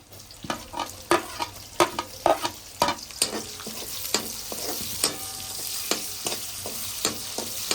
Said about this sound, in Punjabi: ਇੱਕ ਦੋ ਮਿੰਟ ਅਸੀਂ ਹੋਰ ਪਿਆਜ਼ ਨੂੰ ਅਸੀਂ ਭੁੰਨਦੇ ਹਾਂ